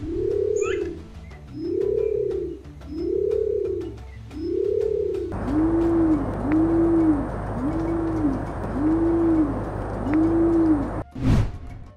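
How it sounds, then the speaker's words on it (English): Nicobar pigeon giving deep, hoarse coos in a slow, even series of about nine calls, close and clear against a faint background hum. "Nicobar pigeons are vocal birds and emit low-pitched chirps to communicate with each other"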